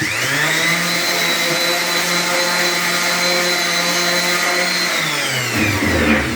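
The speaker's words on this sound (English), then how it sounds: "Also on the bottom side, also with the orbital sander." Orbital sander working wooden trim, a loud continuous whining buzz held steady for several seconds before winding down at the end, close up with no talk.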